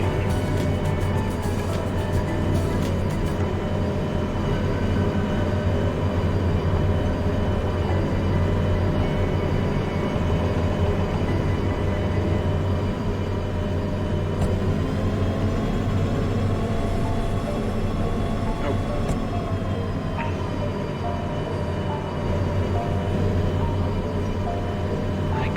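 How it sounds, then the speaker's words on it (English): Locomotives in the train game Derail Valley build speed under heavy load, a steady loud rumbling engine drone with continuous mechanical hum and faint higher whine running throughout. "We are pushing these locomotives to their limit, but we are accelerating."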